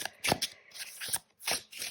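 A slippery tarot card deck is shuffled by hand close up in several quick riffling bursts with short pauses between them.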